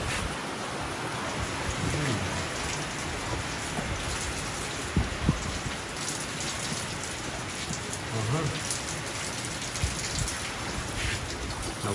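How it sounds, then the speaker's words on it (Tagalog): Heavy rain pours down steadily in a dense, constant roar of drops hitting surfaces, loud and close, with no letup across the whole stretch. "hindi na nga nagpatigil ang ulan, bumagsak na. Ang lakas niya na"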